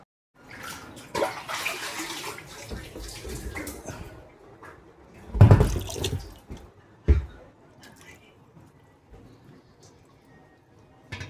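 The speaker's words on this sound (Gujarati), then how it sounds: "આમાંથી પાણી ભરવાનું છે ટાંકામાંથી, આમાં એક ડોલમાં ભરી લઈ" Water drawn from a tank into a bucket, with bursts of splashing and pouring, one loud gush near the middle and quieter drips and trickles between.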